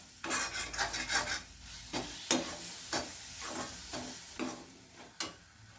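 Small onion thokku with tamarind, Chettinad style, being stirred in a pan: a series of distinct scraping strokes, roughly eight, with a low sizzle between them, close up and without talk.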